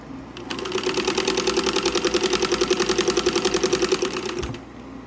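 A Singer 15 RAF sewing machine stitches in a fast, regular mechanical rhythm for about four seconds, starting and stopping cleanly. The sound is close and clear, with no talking.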